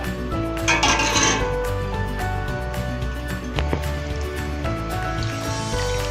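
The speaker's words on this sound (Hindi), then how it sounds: "इसको साथ साथ आपने हिलाते जाना है।" Two litres of milk stirred in a pot on a full flame on the stove, with a spoon scraping and clinking against the metal and soft liquid sloshing over a steady burner hiss.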